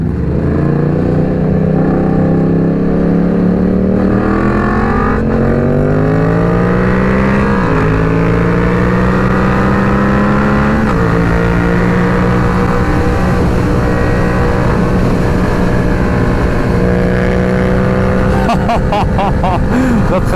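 An engine pulls hard on a highway, its steady pitch climbing through several rising sweeps as the vehicle accelerates. The engine is loud, close and continuous, and no speech is heard over it.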